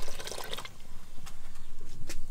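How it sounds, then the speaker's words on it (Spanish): A little water pours into thick atole cooking on the stove, a soft trickling splash heard close and fairly faint with no voices. "Le vamos a agregar un poquito de agua."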